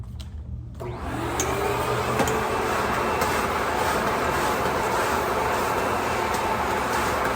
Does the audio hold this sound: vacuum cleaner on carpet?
yes